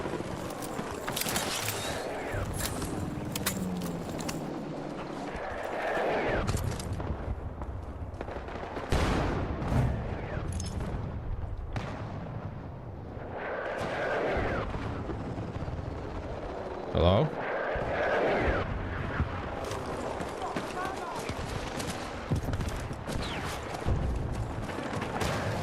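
Gunfire in a Battlefield match, dense bursts and sharp cracks layered with explosions, vehicle rumble and battle noise, with talk over much of it.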